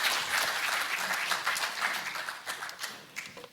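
An audience applauds steadily to welcome a speaker at a lecture, a dense, sustained clapping that holds for several seconds and begins to thin slightly toward the end.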